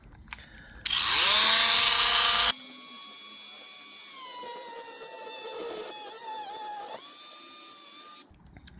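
A power rotary tool cuts a plastic pin off a servo gear for a 1/10 RC crawler winch: a loud, harsh high-pitched whine starts abruptly, then settles into a steadier, quieter grinding tone with shifting pitch, close up and alone.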